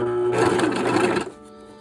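A sewing machine stitching a hem on overalls, a close, loud whirring run of about a second that stops abruptly, leaving a low background hum.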